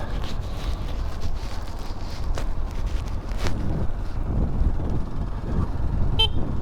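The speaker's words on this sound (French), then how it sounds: "on a un beau klaxon qui fonctionne" A short, sharp horn beep from a 2018 Honda 125 Monkey motorcycle sounds near the end, cutting through steady wind and low engine rumble outdoors.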